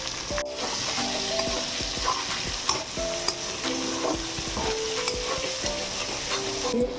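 Chopped onion frying in a pan, a loud steady sizzle up close with repeated stirring scrapes and light metallic taps throughout.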